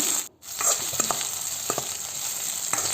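Tomato frying in hot oil for an Andhra drumstick and mango sambar: a steady, close sizzling hiss with a short dip near the start and a few soft stirring clicks over it.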